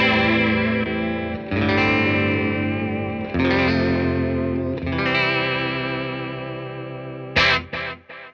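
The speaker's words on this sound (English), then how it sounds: "now that we've heard that vibrato going on over here" Electric guitar played through a NativeAudio Pretty Bird Woman chorus and vibrato pedal, sustained chords with a warbling pitch wobble, then a few short stabs at the end, loud and close with no voices.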